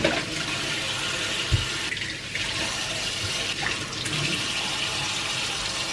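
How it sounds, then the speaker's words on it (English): Tap water streams steadily into a sink as cocktail shakers are rinsed, a continuous close rushing flow with occasional splashes and knocks throughout. "we're going to wash, or at least rinse, these shakers."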